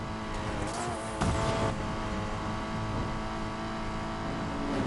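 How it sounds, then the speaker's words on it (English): Race car engines rev and roar in Need for Speed Payback, likely including a Porsche Cayman, as a steady dense engine drone with rising revs and a brief tire squeal, with no talking. "Better hurry, engines are revving."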